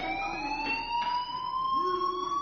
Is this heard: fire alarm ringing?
yes